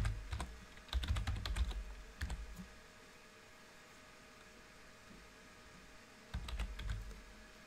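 Code being typed on a computer keyboard: quick bursts of clicky keystrokes near the mic, a flurry early on, a pause of near silence, then another short burst at the end.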